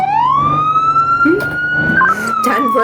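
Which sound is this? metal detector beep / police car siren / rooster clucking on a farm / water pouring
police car siren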